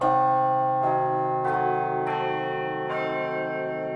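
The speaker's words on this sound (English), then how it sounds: "That sound is a diminished chord." Carillon bells ring out a sequence of four struck notes forming a diminished chord, each sustaining and overlapping into a clashing, unresolved chord with long ringing decay.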